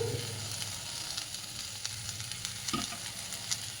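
Soft, steady sizzling of green chutney ingredients being sautéed in a pan, with a faint scrape of stirring partway through and no voices.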